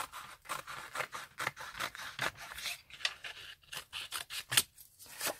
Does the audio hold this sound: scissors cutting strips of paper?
yes